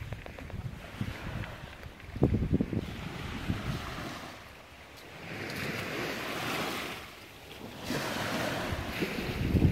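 Waves roll onto the beach at Calvert Cliffs State Park in slow surges that rise and fall, with heavy wind buffeting the microphone throughout.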